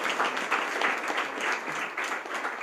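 An audience at a World MSME Day program breaks into applause, dense continuous clapping from a crowd that holds steady at moderate loudness throughout.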